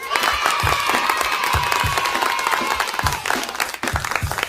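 Children clap their hands together in a classroom lesson, rhythmic beats under a chorus of young voices, with a short pause near the end before clapping resumes.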